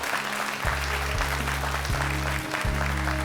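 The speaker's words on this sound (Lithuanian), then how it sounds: "Žiūrovų plojimai ir į sceną žengia Greta ir Ieva." A studio audience on a Lithuanian TV game show applauds as two contestants walk onto the stage, a dense, sustained burst of clapping with a rhythmic musical thump beneath it.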